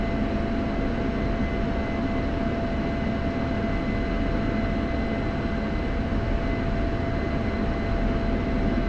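In a flight simulator game, a simulated aircraft taxis on a night airfield, its engine holding a continuous, even drone with a thin steady whine on top and no speech.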